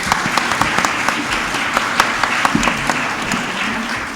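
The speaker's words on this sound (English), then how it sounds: "a big round of applause once again for our panelists" An audience at a youth forum claps for the panelists before a lunch break, loud, close, steady applause with distinct individual claps standing out over the full length.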